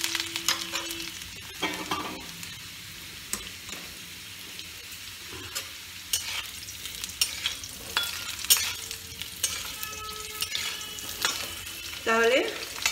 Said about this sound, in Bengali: যে সবজি দেন না কেন খুব বেশি ভাজার দরকার পড়ে না।